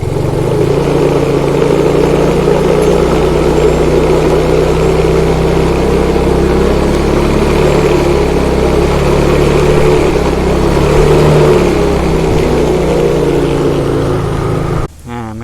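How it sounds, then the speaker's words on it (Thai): A Yamaha Fino scooter with a weak, poorly charging battery that won't electric-start runs close by. The engine holds a loud, steady drone throughout and cuts off abruptly at the very end. "สตาร์ทเครื่องแล้วนะครับ เดี๋ยวลองบิดคันเร่งนะครับ"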